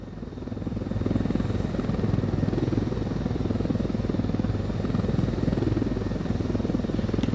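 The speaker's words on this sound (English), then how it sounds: "No way that plane's getting off the ground." Plane engine in the video game Ghost Recon Wildlands, a loud continuous droning roar with a fast buzzing propeller flutter, building up in the first second and holding steady throughout.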